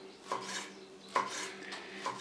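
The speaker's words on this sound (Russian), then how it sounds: "Дальше берем наши яичные блинчики и скручиваем их вот в такие рулетики. После чего вот так тоненько нарезаем." A knife slices thinly through rolled egg pancakes on a board, giving three crisp, evenly spaced cuts close by in a quiet kitchen.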